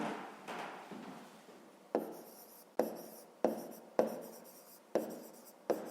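A pen writing a math solution by hand on paper in a quiet room, close and faint, with a run of short strokes and taps that grow sharper and more regular toward the end.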